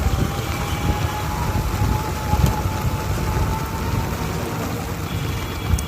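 Heavy rain pours down in a steady, dense roar that fills the whole stretch, loud and unbroken, with a faint sustained tone running beneath it.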